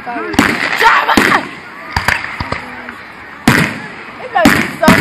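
Loud fireworks explode in scattered sharp bangs at a nighttime show, some in quick pairs and others spaced apart, with excited voices talking and shouting around them.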